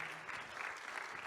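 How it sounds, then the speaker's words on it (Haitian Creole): An audience at a 20th anniversary event applauds a performer, a steady wash of many hands clapping at moderate volume, continuous and even from start to finish. "Another round of applause, ladies and gentlemen, for our next performer"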